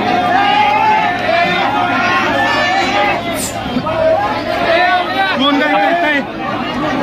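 A dense crowd at the 2023 Sant Dnyaneshwar palkhi procession in Phaltan, Maharashtra, fills the air with loud, continuous babble of many overlapping voices and shouts, with people talking nearby.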